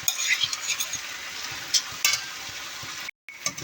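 Lentils and vegetables stirred in a pot of water for lentil soup: close, irregular scraping and sloshing strokes, with a brief gap near the end.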